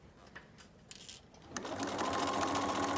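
A sewing machine stitching along the edge of a mitered fabric table napkin, starting with a few soft clicks and handling sounds, then running into a loud, steady whir close by.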